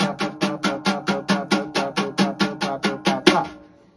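Jazz drums in a bebop solo feel, swung between triplets and straight eighths: a steady run of about fourteen even, crisp hits with cymbal wash, close and loud, ending with a sharper accent before stopping.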